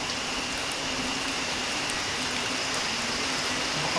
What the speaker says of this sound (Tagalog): Lumalakas ang ulan.